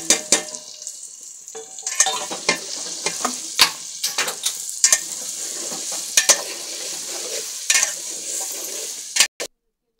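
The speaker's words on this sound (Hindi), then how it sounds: "आलू को सबसे पहले फ्राई कर लेंगे।" Potatoes frying in a pan for an egg and potato curry, with a continuous sizzle punctuated by sharp spoon clinks and scrapes against the pan, close and loud, ending abruptly.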